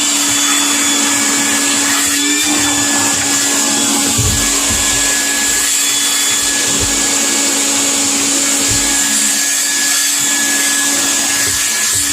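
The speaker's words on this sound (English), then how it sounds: "This vacuum is the best." A small vacuum cleaner whines steadily and loudly with a high motor tone, occasional low thumps as it moves, no talking.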